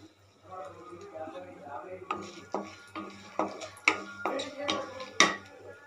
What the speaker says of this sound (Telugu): ఇప్పుడు తాలింపు గింజలు వేసేద్దాము.